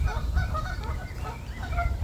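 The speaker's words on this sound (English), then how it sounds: "The geese having a little bit of a row then." Geese honk and squabble in a short noisy row beside a carp fishing lake, their harsh overlapping calls close and continuous over a low rumble of wind or background noise.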